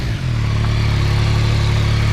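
Stock 2022 Yamaha MT-09 Tracer GT three-cylinder motorcycle engine starting and then idling steadily, a loud close continuous low hum with a slight rise just after start-up.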